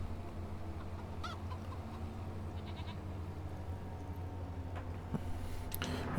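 Poultry sounds from chickens in the farming game Farmlands, soft and scattered over a steady low ambient hum, with a few brief bird-like calls and clicks near the end and no talking.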